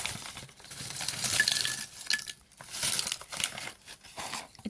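Scissors snip and crinkle through the plastic packaging of an Asian snack, close up, in a run of crisp rustling cuts and crackles with short pauses between them.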